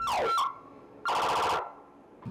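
A vehicle siren of the kind sold as a wangwang, with a choice of tones and metal or plastic horns, gives short loud wailing sweeps, one burst at the start and another after a brief pause, with no talk.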